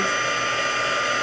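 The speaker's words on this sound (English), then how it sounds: "this embossing gun or heating tool gets very hot" An embossing heat gun blows hot air in a steady, loud, close whoosh that holds unbroken from start to end, with no voices over it.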